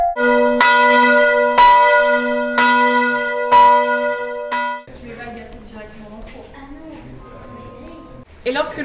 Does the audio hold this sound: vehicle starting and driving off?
no